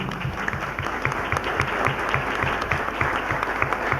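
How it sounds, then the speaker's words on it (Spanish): Sustained applause from a church congregation, steady dense clapping with no talk, filling the room at an even level throughout. "Bien, un aplauso pues para el hermano."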